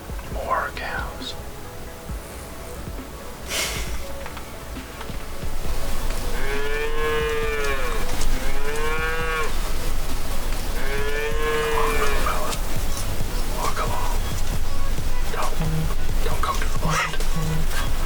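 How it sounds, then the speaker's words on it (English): Two long, loud cattle moos ring out a few seconds apart over outdoor background noise on a farm cattle pasture, with a couple of fainter calls in the distance. "More cows."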